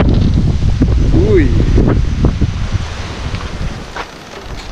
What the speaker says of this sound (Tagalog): Grabe, mukhang malakas yung ulan, no? Lakas ng hangin, lamig.